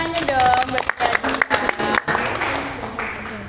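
A small student audience clapping for a guest on a school podcast, lively hand claps mixed with voices and chatter, loud and close, tapering into murmuring crowd noise toward the end.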